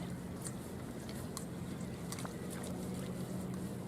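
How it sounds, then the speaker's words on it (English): Low, steady engine rumble of fishing boats heading out across water in the early morning, continuous and moderately distant, with faint splashes and a few brief higher clicks. "you can start hearing all the boats heading out"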